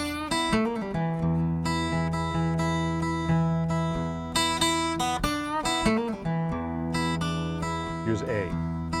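An electric guitar plays a single blues lick built from the E blues scale over changing chords, with clear, sustained notes and bends ringing alone in a steady phrase.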